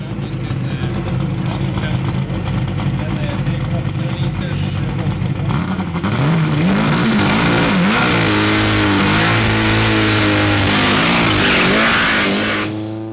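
A Super Comp drag racing car, a green Type 1 bubble body on a chromoly tube chassis, idles loudly then revs hard in rising and falling sweeps, close and powerful, with someone talking over it.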